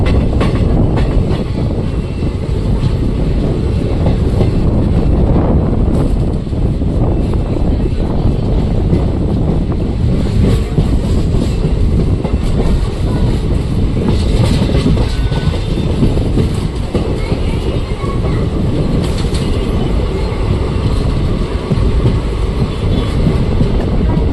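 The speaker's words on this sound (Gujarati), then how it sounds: "ગાડી પાટો બદલી રહી છે." Passenger train on the Lathi to Veraval route switching tracks near Jetpur, wheels clattering over rail points in a loud, continuous close rumble that fills the whole stretch with irregular metallic knocks.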